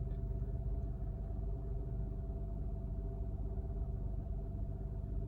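Honda Odyssey engine idling smoothly after new spark plugs, a faint, steady low hum and rumble with no stumbles, heard from nearby with no voices.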